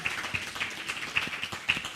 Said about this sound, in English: let's give a big round of applause to our audio video team